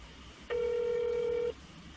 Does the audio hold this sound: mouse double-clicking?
no